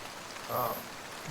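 Rain falls steadily in a soft wash, with a brief voice rising over it midway.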